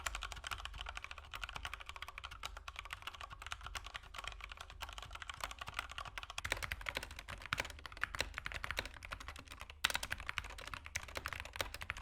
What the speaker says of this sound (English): I'll actually put up sound tests of both keyboards right now.